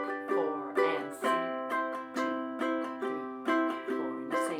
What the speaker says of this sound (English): These are all patterns of the cowboy strum.